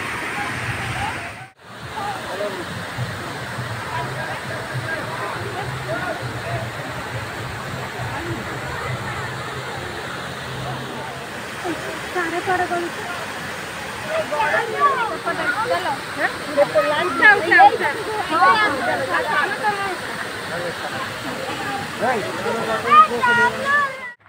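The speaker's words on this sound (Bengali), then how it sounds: "চতুর্দিক থেকে জল এসে এই গুন্ডিচাঘাগি ওয়াটারফলসে জন্ম দিয়েছে" Gundichaghagi waterfall in Keonjhar roars steadily as a broad, continuous rush of falling water, loud and near; a voice speaks over the torrent in the second half.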